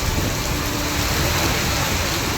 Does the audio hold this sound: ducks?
no